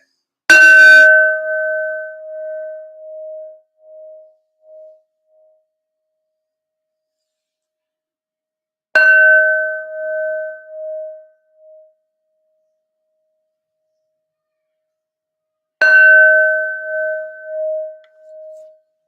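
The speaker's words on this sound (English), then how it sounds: "These are Neptune's bells." Three separate bell strikes ring out alone in near silence, each a clear metallic tone with a long decaying hum, spaced several seconds apart and loud and close.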